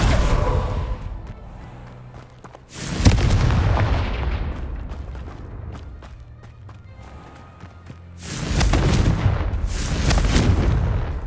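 Fiery Confringo spell blasts from the Hogwarts Legacy video game, two loud booming bursts a few seconds apart, each followed by a crackling, rumbling tail over a busy background of game effects.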